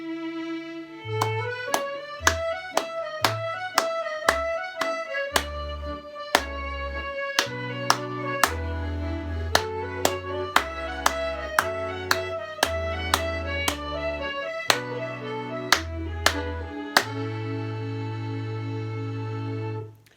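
Hands clap along to a bouncy nursery song, sharp single claps landing in a regular beat over the tune.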